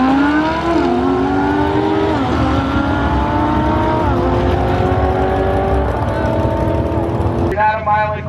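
A 2015 Lamborghini Huracan accelerates hard, its engine note climbing through several rising sweeps with quick shift drops between them, loud and close, with a voice talking over it.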